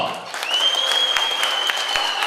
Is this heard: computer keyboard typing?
no